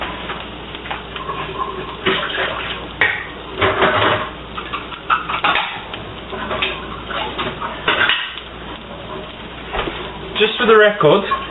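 Dishes and kitchen utensils get washed up at a home stove while onions cook: pots and cutlery clatter and clink repeatedly, cupboard and drawer knocks mix in, and running water sits under someone talking throughout.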